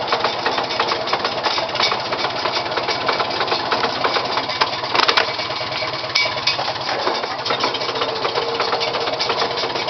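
A 1950 Farmall M tractor engine runs steadily in a loud, continuous rapid chugging knock, close by and without voices.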